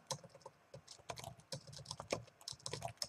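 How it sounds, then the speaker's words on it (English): Rapid typing on a computer keyboard, irregular clusters of soft key clicks heard close and quiet, with no talking. "Wow, my typing's awful tonight."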